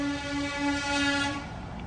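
A vehicle horn blares in one long, loud, sustained honk with a steady harmonic tone, sounding close by and alone, dipping slightly before holding to the end.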